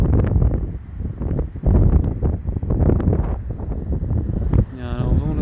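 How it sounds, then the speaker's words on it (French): Strong, cold wind blows across the microphone beside the sea at a beach parking area in Morocco, roaring in uneven gusts and buffeting the mic constantly throughout. "Il y a un vent là, ça caille un peu."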